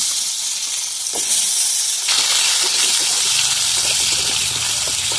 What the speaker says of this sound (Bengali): এই মাছ ভাজার তেলের মধ্যে আমি অল্প পাঁচ ফোড়ন একটা তেজপাতা দিয়ে আমি সবজিগুলো ভেজে নেবো